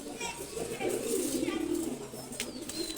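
Pigeons coo in a loft alongside a breeder's birds, a low steady murmur running through the whole stretch, with someone talking over it and faint higher chirps near the end.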